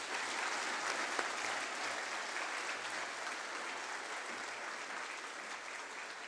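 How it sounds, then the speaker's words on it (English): Sustained applause from a school audience at an academic awards ceremony honouring Year 7 recipients, even and continuous throughout. "If we can please applaud our wonderful Year 7s."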